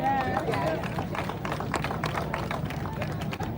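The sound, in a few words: audience applause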